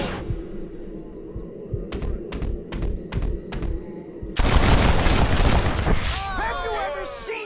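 Five evenly spaced, sharp gunshots crack in quick succession as a hat is shot in Red Dead Redemption, followed by a loud burst of noise and whistling effects, with no one speaking.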